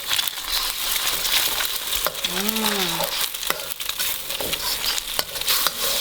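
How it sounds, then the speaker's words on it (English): Egg being stirred and fried with chili and garlic in a pan for Thai basil shrimp fried rice, a steady close sizzle with scraping stirs and a brief whistling tone midway. "Okay, and now I'm going to mix the egg."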